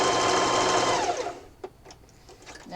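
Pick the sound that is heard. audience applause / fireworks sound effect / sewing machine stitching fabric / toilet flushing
sewing machine stitching fabric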